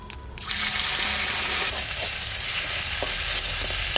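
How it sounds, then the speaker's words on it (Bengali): Cumin seeds and ground spice paste sizzle steadily in hot mustard oil in a pan for a fish and zucchini curry, a loud continuous frying hiss with faint stirring knocks and no talk. "সর্ষের তেল দেবো, ফোড়ন দেবো। এবার সামান্য দিলাম তেলটা, জিরে আর এই যে বাটা মশলাটা"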